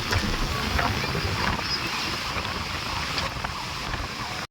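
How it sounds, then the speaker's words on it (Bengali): Ocean surf at Puri beach on a rainy day, a steady loud broadband roar of breaking waves that fills the whole clip without pause, with no talk over it. "ঢেউটা সেই লেভেলের হচ্ছে এবার"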